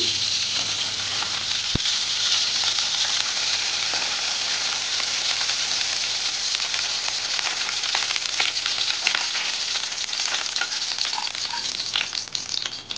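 Dalda vegetable ghee sizzling in a wok, a steady bright hiss of hot fat that holds evenly for the whole stretch, close and continuous with occasional small crackles and no talking.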